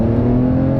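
A 2020 Porsche 911 992 engine revs hard and loud during a quick gear shift, a close, steady tonal roar with a strong hum through the brief burst, no talking.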